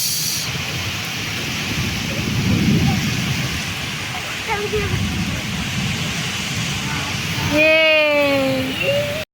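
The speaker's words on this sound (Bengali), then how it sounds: "দেখো বৃষ্টি পড়ছে" Steady rain pours with low rumbling thunder rolling through, and voices talk over the downpour near the end.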